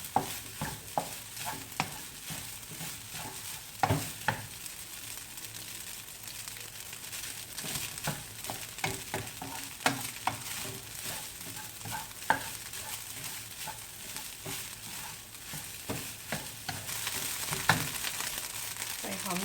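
Egg, barbecued chicken and spinach fried rice is stir-fried in a wok with steady sizzling and repeated scraping, clattering strokes of a spatula against metal, close and continuous throughout.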